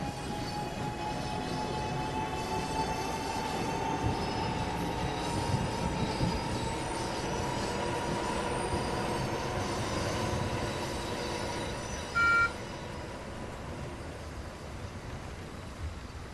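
NJ Transit train on the Morristown Line departing in Train Sim World 6, a steady rumbling roll of wheels on rails with faint squealing tones throughout, and a brief beep near the end.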